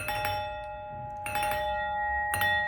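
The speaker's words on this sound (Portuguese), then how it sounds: "Aperta a campainha." A home doorbell chimes in three clear ringing strikes about a second apart, bright tones sustaining between hits in a quiet room.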